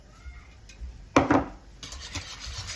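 A whisk scrapes through a thin gram flour (besan) batter in a bowl in a home kitchen, a short quick burst of rubbing strokes after quiet, then lighter intermittent scraping, no speech.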